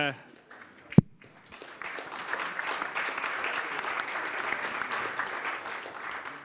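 Audience applause at an industry conference on helicopter leasing builds after a sharp knock, a sustained wash of many hands clapping at moderate distance, steady and fairly loud.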